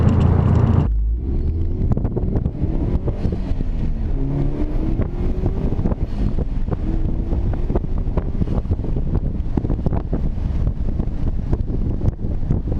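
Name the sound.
2004 Subaru WRX STI accelerating at full throttle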